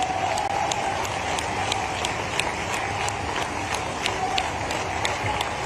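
Audience applause at a public event, a dense steady clapping from a crowd that continues evenly throughout without any clear voices.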